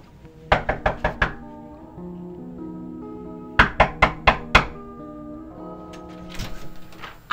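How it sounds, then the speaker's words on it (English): Someone knocks on a door in two clear bursts of about five quick raps, separated by a pause of a few seconds, over a quiet, low musical bed. "I know you heard me knock."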